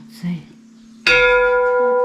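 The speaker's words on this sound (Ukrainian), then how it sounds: "Бачите, які дзвони тут." Old, heavy bells in a historic setting: a single loud strike rings out and then sustains with a long, shimmering metallic decay, preceded by a brief voice.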